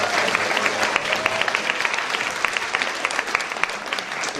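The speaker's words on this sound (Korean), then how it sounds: "크게 박수 한번 다시 한번 하겠습니다." Wedding guests applaud steadily throughout, a dense, loud wash of clapping from a crowd at a Korean wedding ceremony, with no talk over it.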